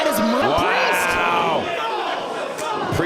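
A wrestling arena crowd jeers at the wrestler Priest, a loud, dense mass of shouting and booing voices rising and falling over a few seconds.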